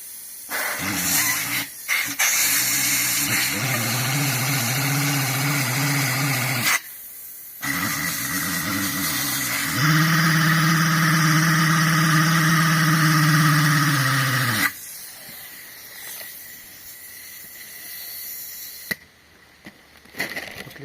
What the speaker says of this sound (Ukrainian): Е, почнемо з такого гідромотора, з якогось асфальтного комбайна.